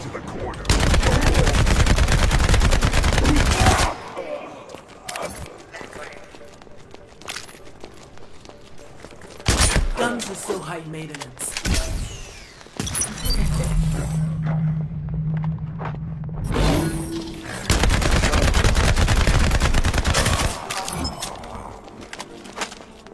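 Gunfire in the video game The First Descendant, loud bursts of rapid shots in two long volleys at the start and end, with scattered shots, impacts and a low droning tone in between.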